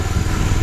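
A motorcycle running in third gear, its engine a steady low droning hum close by, unbroken throughout the brief moment with no voices.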